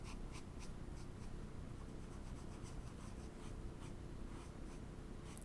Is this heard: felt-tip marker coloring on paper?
yes